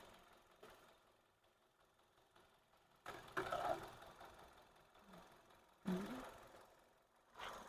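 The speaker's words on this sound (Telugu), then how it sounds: "చాలా సైలెంట్గా ఉందండి ఇంజన్ అయితే" A Hyundai Grand i10 Nios engine idles quietly, a low, even hum with faint mechanical ticking, swelling briefly louder twice before settling again, with no talk.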